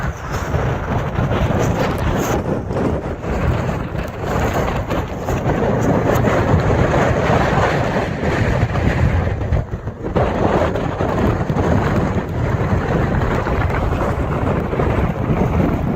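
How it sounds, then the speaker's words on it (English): Very strong wind at Lake of the Clouds on the Appalachian Trail, roaring and buffeting the microphone in a loud, continuous rush with brief dips and surges, no voices heard. "And it's so windy. I bet that's up to 65, 70 mile an hour winds right now."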